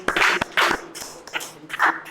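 An audience claps in short bursts to welcome a speaker onto the stage at a workshop event, a few scattered rounds of applause fading in and out, fairly close.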